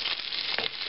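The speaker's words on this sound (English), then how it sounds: "So I'm going to brown this chuck roast." Chuck roast browning in a hot pan, a steady close sizzle that stays even throughout with a brief louder crackle partway through.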